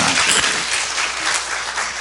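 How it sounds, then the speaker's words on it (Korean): Applause from a church worship congregation, a dense steady wash of many hands clapping together, loud and close, holding at an even level for the whole stretch with no voices on top. "박수 한번 합시다."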